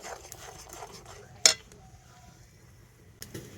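A utensil stirs milk with powdered sugar in a pan, making soft scraping and a sharp metallic clink near the middle, then another light knock near the end, close and otherwise quiet.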